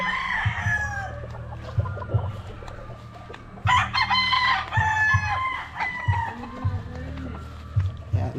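Gamecock stags and gray roosters on a Pangasinan farm crow and cluck repeatedly, some calls close and loud, others farther off, while someone talks intermittently among them.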